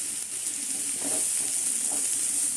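Five roughly chopped medium onions frying in a pan, a steady close sizzle with light stirring clatter, no one speaking.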